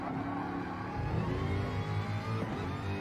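A Jaguar race car engine at Monza in a racing video game, a steady, moderately loud engine drone with rising and falling pitch, with no talk.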